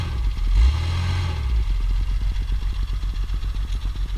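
A 1958 Mercedes-Benz 220S engine rises in a short rev near the start, then settles into a steady, close, pulsing idle with a rhythmic low chug and no voices.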